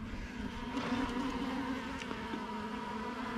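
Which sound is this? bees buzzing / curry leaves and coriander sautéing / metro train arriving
bees buzzing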